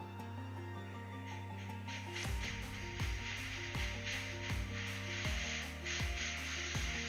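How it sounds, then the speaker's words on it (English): A short test spray of paint hisses over a steady background hum, followed by a run of evenly spaced clicks or taps that repeat about once a second. "Let's have a little test spray."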